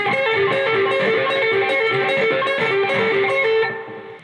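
Distorted electric guitar rips through the solo lick at full speed, a rapid dense run of picked notes repeated eight times, loud and alone before tapering off.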